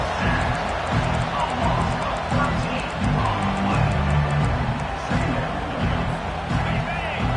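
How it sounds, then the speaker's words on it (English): Stadium crowd in the NCAA 25 college football video game swells into a steady roar of cheering while the defense tries for a stop, a dense continuous wash of noise with broadcast commentary talking over it. "this crowd coming to life here, trying to help the defense get a stop with the offense pinned back"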